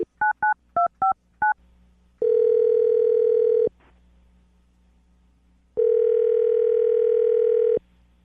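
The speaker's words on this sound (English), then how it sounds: "I'm going to dial the phone number right now" Quick series of six touch-tone beeps as a phone number is dialed, followed by two long, loud ringback tones separated by a pause.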